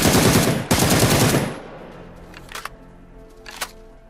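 Rapid automatic gunfire in the PUBG battle royale video game on PS4 or Xbox One, a loud sustained burst of shots followed by a couple of sharp isolated single shots as the firing dies away.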